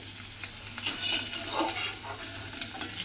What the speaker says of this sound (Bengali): তেলের মধ্যে দিয়ে মাছগুলোকে আমি একটু লাল করে ভেজে নেব